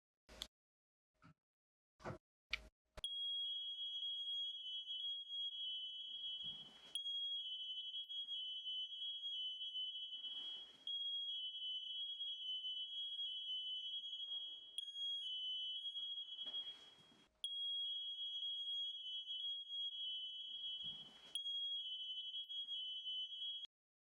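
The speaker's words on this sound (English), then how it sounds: "I'd like to inspect the smoke alarms of the property now to make sure they're all interlinked." A mains-powered, interlinked Grade D smoke alarm sounds a loud continuous high-pitched tone after a few short test chirps, broken by brief pauses roughly every four seconds, with no talking.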